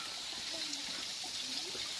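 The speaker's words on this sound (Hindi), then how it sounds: "ये झरना" A waterfall at a picnic spot in Botalda, Chhattisgarh, heard as a steady broadband rush of falling water with faint voices and calls underneath.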